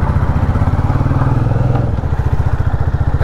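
Motorcycle engine running steadily close by, a rapid putting mid-pitched drone with clattery pulses as the bike rolls into a temple area near a dam, with no talking.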